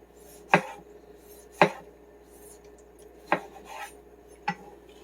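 A knife chopping a vegetable on a cutting board for crock pot charro beans, four separate sharp cuts spaced about a second apart, close and fairly quiet with a soft scraping between strikes.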